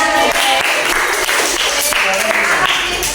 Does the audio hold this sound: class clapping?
yes